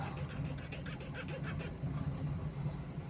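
Sandpaper or a file rounds off the edges of a small plastic part on a 1/35 scale Gepard model, giving quiet rhythmic rasping strokes for about a second and a half, then soft rubbing.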